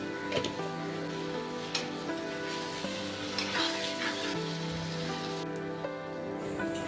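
Small mourola fish sizzle in a pan with turmeric while being stirred, a steady frying hiss broken by occasional soft stirring strokes over a constant tonal background hum.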